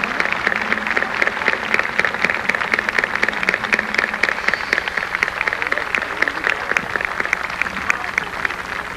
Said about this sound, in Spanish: Empecemos esta Eucaristía dándole un fuerte aplauso al Señor del Santuario de Santa Catalina.